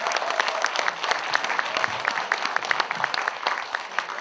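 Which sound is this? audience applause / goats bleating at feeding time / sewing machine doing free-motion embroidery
audience applause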